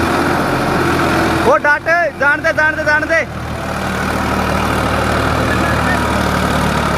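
A tractor engine, Farmtrac 45 or Swaraj 744 XT, strains while pulling an overloaded trolley; its loud, steady diesel rumble runs throughout, with someone shouting briefly near the start.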